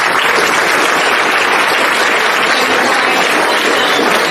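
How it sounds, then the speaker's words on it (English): A large audience at a high school athletics awards show gives a girls' team a loud, dense round of applause, an unbroken wash of clapping that stays at full strength throughout. "let's give them another round of applause"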